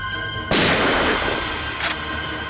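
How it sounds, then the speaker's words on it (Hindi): Gunshots ring out in a TV crime drama: a loud, sharp blast followed by a decaying rumble, then a second, shorter report about a second later. "गोली चला।"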